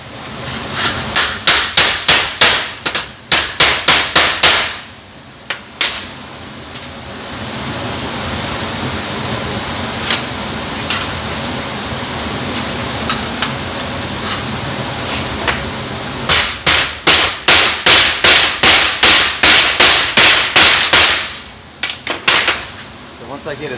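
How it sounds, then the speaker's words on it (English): Rapid, loud metallic hammer blows ring out in bursts as a sheet metal edge is hammered over wire on a 1969 VW Bus, pausing for a stretch of steady hiss before the rhythmic pounding resumes. "I'm going to hammer this whole edge over and give it what they call a wired edge"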